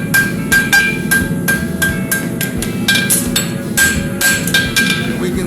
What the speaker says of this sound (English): Give it a good flatten. Forge it in a little bit more from the quarters to the heel.